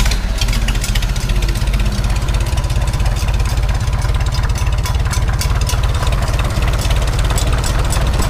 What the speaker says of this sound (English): start it up here, see if we can't hear that engine knock